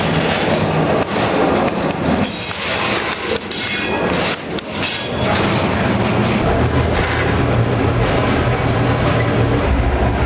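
Freight train rolling on rails heard from aboard, a loud, steady roar with rattling and clanking of railcars throughout and a few louder knocks partway through.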